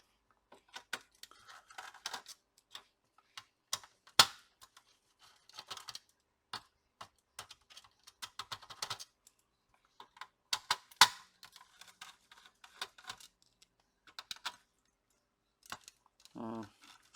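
Small screws being undone on an MSI GeForce RTX 4070 Ventus 3X graphics card to separate the cooler from the board: scattered close, dry metallic clicks and ticks of a screwdriver working, irregular and fairly quiet, with brief pauses between them.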